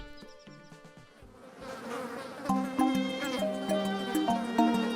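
A swarm of flies buzzes in an animated film set in biblical Egypt, a dense insect drone rising and thickening over a few seconds, mixed with music-like tonal layers.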